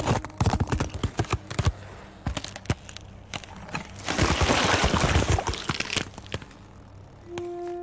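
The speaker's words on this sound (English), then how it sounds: "That's the sound of icebergs and our world cracking." Icebergs cracking produce a run of sharp, irregular snaps and thuds, then a denser stretch of crunching, grinding breakup before a brief tonal ring at the end.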